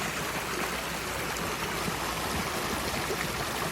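A backyard stream swollen and running fast after heavy rain makes a steady, full rushing and gurgling sound, close and constant, with no voices over it.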